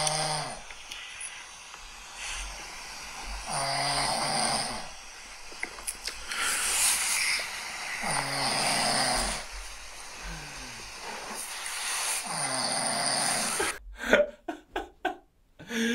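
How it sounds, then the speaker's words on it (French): A sleeping man snores loudly and steadily, with deep rasping breaths repeating every couple of seconds, close by, before a few sharp rustling bumps at the end. "je ronfle pas tout le temps comme ça"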